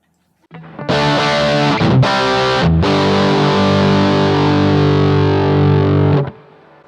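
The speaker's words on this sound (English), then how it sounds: "it feels like the overdrive has a little more bite to it" A distorted electric guitar through a BluGuitar AMP1 overdrive strikes a few quick chords, then lets one fat, crunchy chord sustain loudly for several seconds before cutting off.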